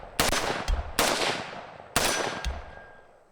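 Three sharp AR rifle shots ring out about a second apart, each ending in a light metallic clink as the ejected brass casing strikes the tripod, all close and loud with no talking.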